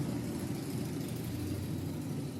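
A loud motorcycle engine in Japan, a steady low rumbling roar holding close and strong with no speech over it.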